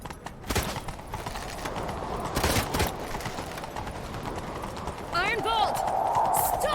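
Horse hooves clop at a gallop in The Witcher 3, a running beat under sword clangs, game music and character voices shouting during a chase.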